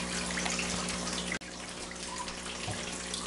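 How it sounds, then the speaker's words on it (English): Fish water from an aquaponics system runs steadily as it is poured to fill containers, a continuous close splashing stream with a brief break partway through. "I'm just going to fill these containers up."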